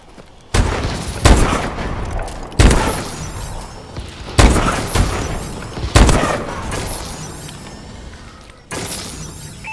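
Missile strikes hit in Call of Duty Advanced Warfare, with about five heavy explosions landing one after another at irregular gaps, each loud, close and sharp with shattering debris and a decaying rumble.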